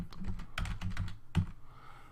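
Command being typed on a computer keyboard, a run of close, irregular key clicks with a louder keystroke near the end, then quiet.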